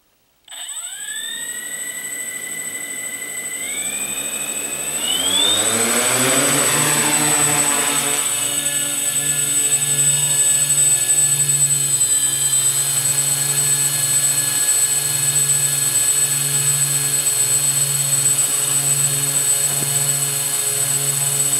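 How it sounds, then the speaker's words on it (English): A UAV-America MR6 hexacopter multirotor drone spins up and flies on its maiden flight, the rotors building from a rising whine into a loud, steady buzzing drone with strong tonal hum, close by and continuous without talk. "So this is actually the real maiden flight"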